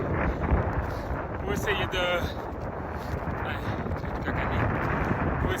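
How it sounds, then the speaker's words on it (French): Strong headwind buffets the microphone during a mountain trail run in extreme weather at UTMR 2025, a steady broadband roar that persists for the full clip while a runner talks over it. "Mais avec le vent de face, j'avais pas prévu ça."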